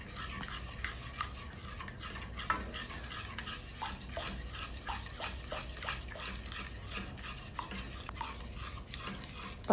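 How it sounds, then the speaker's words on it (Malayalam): Ragi porridge with milk simmers in a pot, stirred continuously with a spoon, giving close, rhythmic scraping and soft bubbling taps that repeat throughout. "നന്നായിട്ട് ഇളക്കി കൊടുക്കുക"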